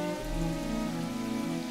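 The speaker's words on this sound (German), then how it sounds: "Okay, hier regnet es dann offensichtlich." Steady rain in the video game Seasons After Fall, a continuous even hiss of falling drops layered over soft sustained musical tones, with no talk.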